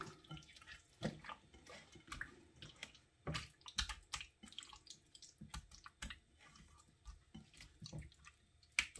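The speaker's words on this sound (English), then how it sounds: "wash my hands" Hands are washed under a running tap, with faint splashing and rubbing in irregular bursts, quiet and close with no voices.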